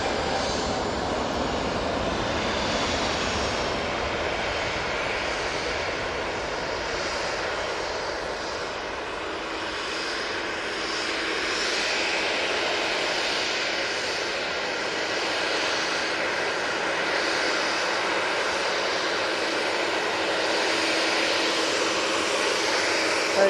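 A Boeing 737-800 taking off from Manchester Airport bound for Faro produces a powerful, sustained jet roar lasting over twenty seconds, swelling slightly at times, loud and close with no speech.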